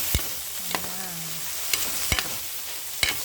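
Hotdog frying in a pan while being stirred: a soft continuous sizzle broken by four or five sharp scrapes and clacks of the utensil against the pan, spaced unevenly over a few seconds.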